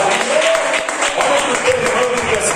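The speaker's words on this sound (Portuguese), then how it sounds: "Pode glorificar a Jesus com palmas." A church congregation claps together in a steady, loud wash of applause filling the room, with voices mixed in underneath.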